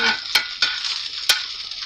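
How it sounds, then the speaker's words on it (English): Onions sizzle steadily in a hot pan, with a few sharp clinks of a utensil stirring against the metal. "When you hear your sizzle"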